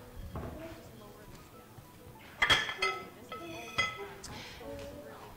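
Ceramic plates clink and clatter a few times as they are lifted out and set down, with quiet kitchen background noise between.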